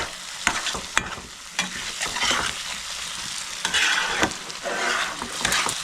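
Chopped tomato is stirred in hot oil in a pan for a fish curry: a continuous frying sizzle broken by repeated sharp spatula scrapes and knocks, close and fairly loud.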